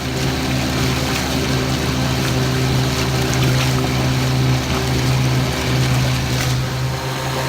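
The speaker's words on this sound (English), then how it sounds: "So I did get the little motor to plane, but just barely." A 1954 Johnson 5-1/2 horsepower outboard motor drives a small boat at a steady, strained drone, loud and close, with water rushing along the hull and no talk.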